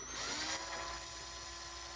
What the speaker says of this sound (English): you get a 4mm drill bit and you drill in there, just softly drill a 4mm